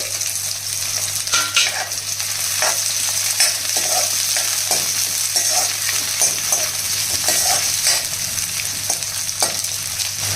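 Pieces of onion, green chilli and carrot fry in a pan with a steady close sizzle, broken by frequent scraping and tossing strokes of a spatula throughout.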